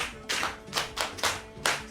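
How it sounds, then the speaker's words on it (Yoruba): Five sharp, close hand claps at uneven intervals ring out alone during a Yoruba storytelling podcast, each a crisp smack with a short tail. "ẹ pàtẹ́wọ́ fún o"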